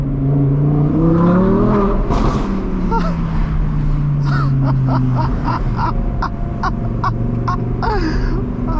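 An Audi R8 Performance's V10 accelerates hard on a winter drive, its engine note climbing and falling through gears close by, followed by sharp rhythmic pops and crackles from the exhaust.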